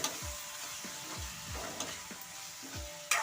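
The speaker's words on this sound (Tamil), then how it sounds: "அதையும் சேர்த்து நல்லா வதக்கி எடுத்துக்கோங்க" Chopped tomatoes and onions sautéing in a pan for a prawn curry, a soft steady sizzle broken by repeated rhythmic scrapes of a spoon stirring, with a sharper clack near the end.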